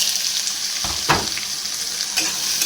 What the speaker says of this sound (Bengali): তার মধ্যে দিয়ে দিচ্ছি আলু।